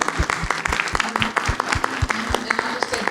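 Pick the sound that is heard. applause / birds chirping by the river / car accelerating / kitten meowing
applause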